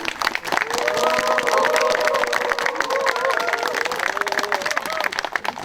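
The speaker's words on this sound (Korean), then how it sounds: "그 어느 때보다 큰 박수 감사드립니다" Large audience at the 45th 5.18 Gwangju Democratic Uprising memorial ceremony applauding university students, steady loud dense clapping sustained throughout with some cheering mixed in.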